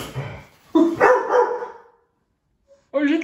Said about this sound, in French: elle a aboyé